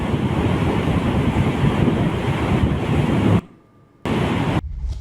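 Water from the opened Radhanagari dam gates rushes down the Gogawati river in heavy Kolhapur rain: a loud, continuous roar like surf that drops away briefly and then returns.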